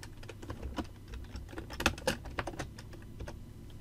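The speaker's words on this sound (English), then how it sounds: "Next, type your text." Quick bursts of clicking keystrokes on a computer keyboard, close and quiet, with short pauses between runs of typing.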